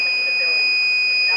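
A fire alarm panel buzzer sounds after a pull station is activated in a facility service bay, a loud continuous high electronic tone holding steady without a break.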